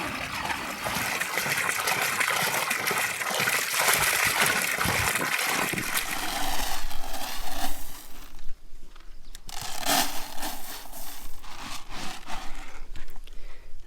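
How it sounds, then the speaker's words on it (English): Water pours and gushes steadily into an animal water trough on a small homestead, a close, continuous splashing stream that shifts in tone partway through, with a few knocks and rubs of wood or metal. "They're waiting for their water."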